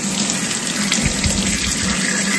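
Pressurized water sprays steadily onto a red dot sight, a continuous loud hissing gush that runs unbroken through the whole stretch.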